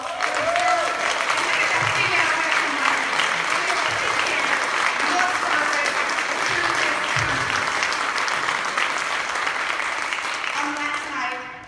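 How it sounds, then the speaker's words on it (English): Audience at a town hall applauding veterans, sustained loud clapping from a large crowd lasting the whole stretch and tapering off at the end. "let's give them a round of applause."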